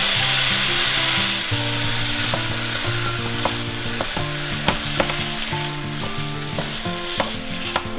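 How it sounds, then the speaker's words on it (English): Ground beef and minced garlic sizzle loudly in a pan with a constant close frying hiss, while a utensil stirs and scrapes with regular knocks and taps through the second half. "I've got my minced garlic. We're gonna cook this along with the ground beef."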